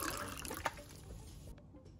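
Water is poured into a pan while cooking, a close splashing gush that fades out after about a second and a half, followed by a few faint drips.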